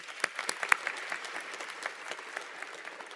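Scattered audience applause at a university graduation ceremony, a moderate spread of individual claps with a few sharper hand slaps, fairly distant and steady with no talking.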